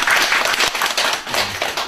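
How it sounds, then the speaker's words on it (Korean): An audience at a Buddhist college gathering claps together in dense, steady applause, fairly close and loud, with no talk over it. "박수 좀"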